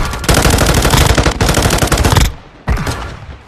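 Rapid automatic gunfire rattles loudly in a battle royale match on Rebirth Island, two long sustained bursts close up separated by a brief pause, with no talking.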